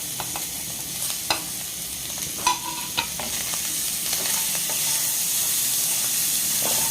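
Chopped tomato, green chili, onion and garlic fry in a pan with a steady sizzle while a utensil scrapes and taps against it at irregular intervals.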